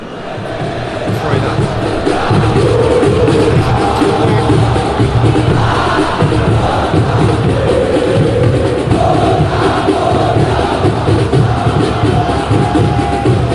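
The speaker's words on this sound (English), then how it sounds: "Crowd appreciates good football all round there." Stadium crowd noise in a football video game, a dense continuous roar of many voices with swelling cheers, loud and steady throughout with no clear breaks.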